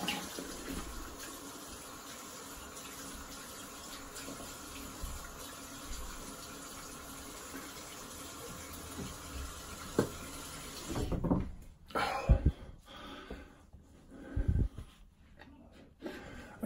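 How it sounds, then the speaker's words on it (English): A tap runs steadily for rinsing, a soft, continuous gush of water. Near the end it breaks into irregular splashes and clatter. "I'm gonna rinse just in a moment."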